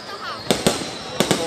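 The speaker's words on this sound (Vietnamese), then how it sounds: "đây là hình ảnh bắn pháo hoa tại thành phố Cao Bằng các bạn nhé" Fireworks bursting over Cao Bang city at a New Year's Eve celebration, two pairs of sharp close bangs in quick succession over a low background murmur.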